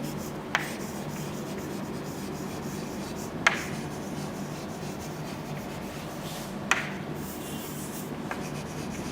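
Pen writing notes on paper for a biodiversity conservation lesson, a steady scratching and rubbing texture that runs throughout with a few sharp taps, fairly close and alone with no talk.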